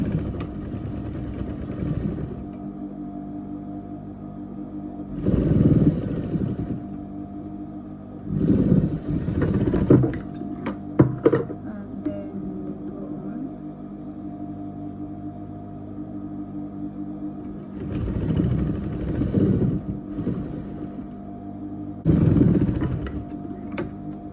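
A sewing machine stitching a double welt pocket runs in several short bursts of a few seconds each, separated by quieter pauses, over a constant low background hum.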